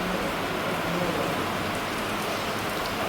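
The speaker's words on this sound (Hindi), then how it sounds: "बारिश बहुत तेज़ हो रही है" Heavy rain pours near the Ellora caves in India, a dense, steady hiss of drops hitting surfaces that fills the whole stretch at even loudness, with no voices.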